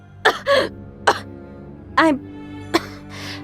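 A female video game character from Blazblue Continuum Shift coughs up blood in a series of harsh, wet, throaty coughs in uneven bursts, close and loud, with a brief spoken word among them.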